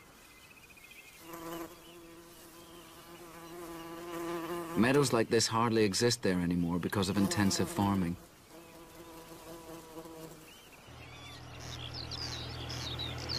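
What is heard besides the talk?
bumblebees humming in a meadow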